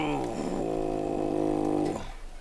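A voice imitates a bull elk's low growling call, giving one sustained, rough, throaty rumble for about two seconds. The sound is close and loud, then cuts off.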